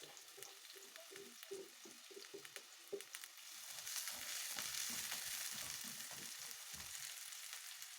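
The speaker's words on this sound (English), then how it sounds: "I'm just going to fry my onions." Onions frying in hot oil for an egg curry, a close, steady sizzle that grows denser and louder partway through, with soft stirring scrapes and no talking.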